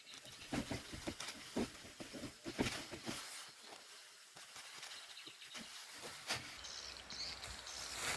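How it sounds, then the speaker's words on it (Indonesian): Heavy rain falls in a forest at a solo campsite, with irregular pattering bursts and close drops striking leaves or a tarp, alone without talk. "Hujan teman-teman, hujan dulu."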